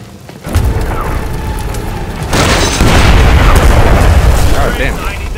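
Loud, heavy blasts and rumbling booms from an explosion in the stealth action game Splinter Cell Blacklist, building in intensity over a few seconds, with game voices faintly underneath.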